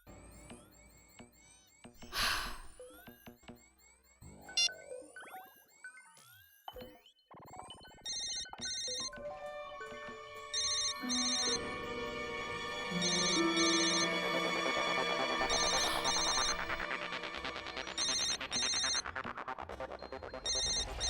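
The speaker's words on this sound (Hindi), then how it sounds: "फोन तो यहीं कहीं बज रहा है।" A phone ringtone with electronic tones plays steadily, building into a busy layered melody that keeps going throughout, with clattering noises early on.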